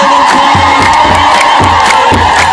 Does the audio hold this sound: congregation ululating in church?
yes